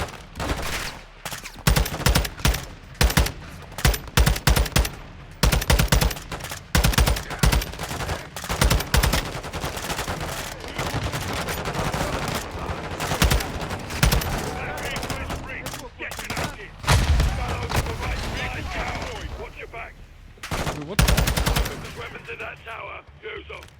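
Call of Duty gunfire in a combat mission: dense bursts of automatic fire and single shots rattle on and off for over twenty seconds, with game voices heard between volleys.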